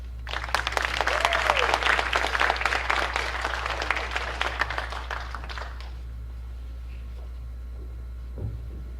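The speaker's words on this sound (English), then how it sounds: "Another round of applause for Dr." An audience applauds at a hall of fame ceremony with dense, sustained clapping for about six seconds. It then fades to near silence with a brief soft thump near the end.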